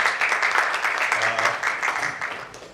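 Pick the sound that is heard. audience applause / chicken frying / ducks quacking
audience applause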